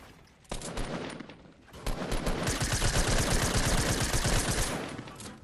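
Rapid automatic gunfire from the Fortnite video game rattles in sustained, dense bursts, loud and continuous, with a short lull before a longer volley.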